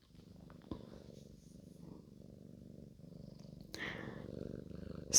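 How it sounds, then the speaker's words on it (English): A cat purrs right beside the microphone, a soft, close, rhythmic rumbling that continues steadily, with a few small clicks and a louder burst near the end. "If you hear a lot of purring,"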